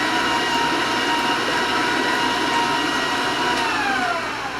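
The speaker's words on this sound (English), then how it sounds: "And I'm just basically mixing it right now." An electric mixer beats vanilla extract into cupcake batter for marbled cupcakes, a steady, loud, continuous whirring drone that holds unbroken throughout with no voices.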